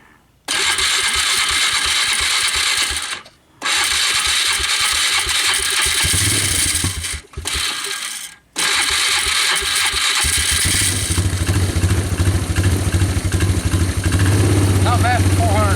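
A Polaris ATV that has sat in a cold garage and has no choke, cranking with the starter in several loud bursts separated by pauses, then catching and settling into a rough, steady idle close by.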